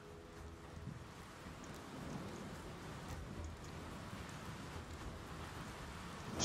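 Steady rain in Honor of Kings pours down in a continuous hiss with a low rumbling undertone, evenly loud throughout with no voices.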